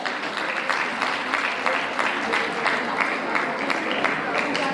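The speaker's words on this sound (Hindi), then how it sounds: "एक बार जोरदार तालियां बजाएं।" Steady applause from an audience at a Manassiddhi program gathering, a dense even patter of many hands clapping throughout at moderate volume.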